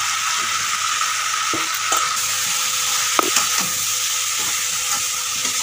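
Soybean curry masala frying in raw mustard oil, a loud, steady close sizzle with occasional stirring scrapes and clinks, no talking.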